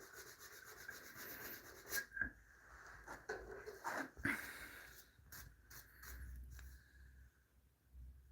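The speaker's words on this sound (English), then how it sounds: "Just a little bit more sanding. I'm cleaning the paint, removing the paint" Hand sanding built-up paint off wood, a quiet stop-start rubbing and scraping with short gritty strokes and brief pauses.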